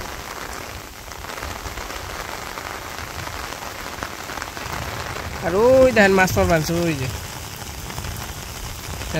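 Steady rain falls over a Bangladesh village, a constant close hiss of drops, while someone talks over it for a few seconds near the end.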